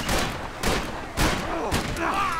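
Gunshots ring out in Max Payne 3, four sharp, punchy reports spaced about half a second apart at moderate loudness, with a faint voice near the end.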